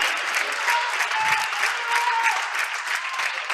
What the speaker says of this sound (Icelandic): áhorfendur láta vel í sig heyra